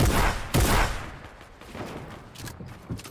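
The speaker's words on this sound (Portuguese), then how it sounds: "É você que tá dando esses tiros?" Bursts of Fortnite gunfire, a couple of heavy booming shots up front followed by scattered, fainter shots and rattling echoes.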